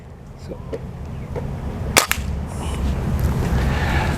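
A silenced Artemis air rifle fires once at a target about 15 meters away, giving a single sharp, fairly subdued crack midway, with faint handling clicks before it and a low background rumble throughout.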